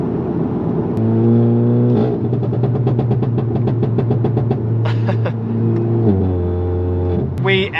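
A Volkswagen MK7 GTI with an ARM catless downpipe, Stage 2 tune and a large round mid muffler revs repeatedly, rising and falling in quick bursts with a raspy burble, loud and close throughout.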